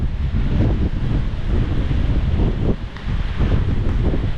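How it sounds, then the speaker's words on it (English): Hurricane Ian's gusting wind of 40 knots plus and rain buffet the microphone in Islamorada in the Florida Keys, a loud steady roar with surging gusts and no pauses. "The wind is blowing now and it is raining."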